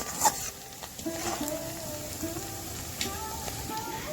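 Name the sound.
chopped onion and spices frying and being stirred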